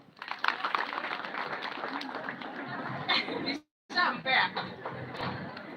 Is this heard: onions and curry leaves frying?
no